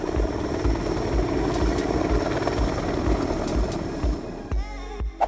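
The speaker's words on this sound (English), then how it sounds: "The vertical landing procedure of the F-35B Lightning II." An F-35B Lightning II jet performing a vertical landing produces a loud, steady, rumbling engine roar with a pulsing, rotor-like thrum that holds throughout and cuts off sharply at the end.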